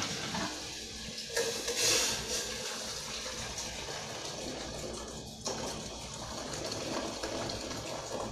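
Water pours and gushes into a container while coffee is being made, a continuous splashing rush with a brief louder surge near the start, with no talking.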